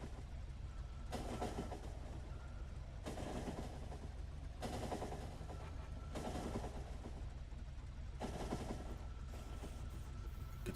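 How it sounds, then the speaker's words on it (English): Train rolling along the tracks in the video game Factorio, a loud rhythmic clatter in repeated bursts, pulsing steadily throughout and heard alone. "And then train comes back up."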